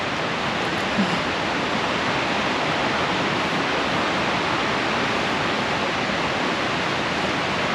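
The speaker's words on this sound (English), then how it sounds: "The creek is down there. It's a big creek." A big creek, swollen and fast-moving, rushes in the Poconos below a woodland path, a steady broadband roar of water that stays loud and even from start to finish with no voices.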